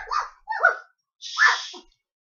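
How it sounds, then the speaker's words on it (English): A small dog gives three short, sharp yaps or barks with brief pauses between them, close and fairly loud, with no one talking over them. "dog is barking."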